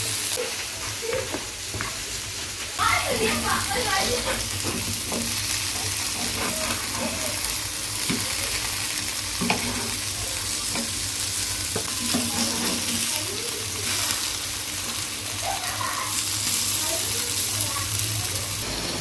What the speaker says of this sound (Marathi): मस्त पापलेट टाकलेली आहेत पॅनवरती